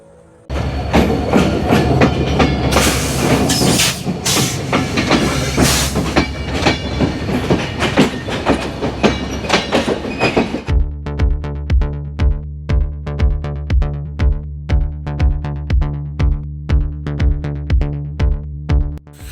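A train rumbles past loudly at Parbatipur railway junction, Bangladesh, then its wheels settle into a steady, rhythmic clickety-clack over the rail joints, close and continuous.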